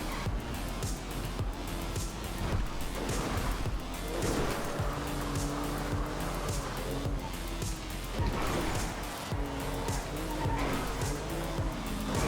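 Cars chase each other in a Grand Theft Auto role-play game, engines roaring continuously as tires squeal and skid in repeated bursts. Vehicle noise is loud and close throughout.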